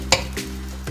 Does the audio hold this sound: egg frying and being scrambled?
yes